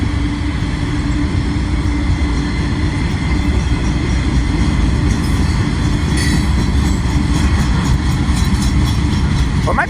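A CSX freight train rolls past close by, loud and continuous, with rumbling wheels, clattering railcars and brief squeals as the cars go by.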